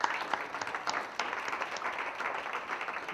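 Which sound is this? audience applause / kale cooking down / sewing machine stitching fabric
audience applause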